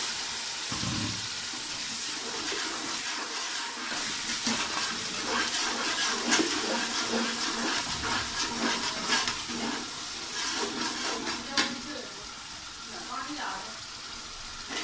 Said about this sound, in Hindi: इसमें मैं थोड़ा सा पानी ऐड कर देता हूँ